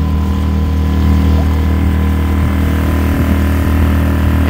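A small motorboat engine runs wide open on a lake, a loud, constant buzzing drone with steady harmonics and faint water noise throughout, heard up close without talk.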